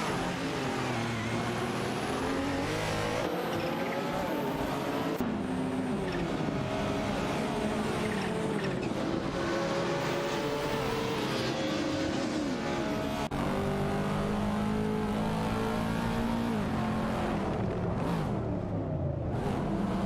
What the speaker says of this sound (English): bot Bjorn Art has also gained ground, moving up to 17 by overtaking bot Orange Funk.